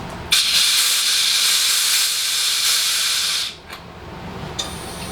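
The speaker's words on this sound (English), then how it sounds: "turn the valve off now and purge" A keg's pressure relief valve is opened during homebrewing and releases gas in one loud, continuous hiss for about three seconds, then cuts off, followed by a brief second short hiss.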